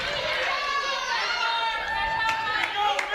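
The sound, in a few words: crowd cheering at a girls' basketball game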